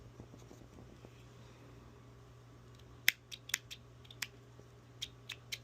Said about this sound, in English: I'm going to cut my string here